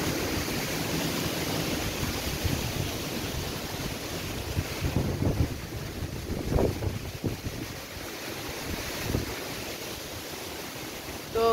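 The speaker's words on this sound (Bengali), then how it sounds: "মাঝে মাঝে খুব হাওয়া দিচ্ছে" Strong wind gusting around a house, a rough, roaring rush buffeting the microphone, steady with a few stronger surges in the middle, and no talk.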